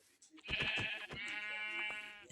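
A single drawn-out sheep bleat in a video game, loud and close, wavering for about two seconds with a nasal, buzzing tone.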